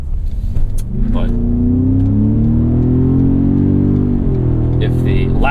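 A 2017 Ford F-150 Raptor's V6 engine pulls steadily through a sweeping corner at speed, its droning note rising and holding loud and close, with someone talking over it.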